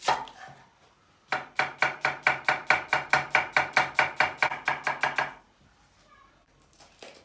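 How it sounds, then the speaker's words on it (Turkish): A knife chops potatoes steadily on a cutting board, about twenty quick, evenly spaced strikes in a burst, then stops; close and fairly loud. "Patateslerimizi şöyle bir fazla büyük olmayacak şekilde doğrayacağız"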